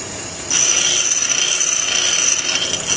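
A steady high-pitched grinding whine starts abruptly and continues loudly, a grinder rough-grinding a metal drill bit.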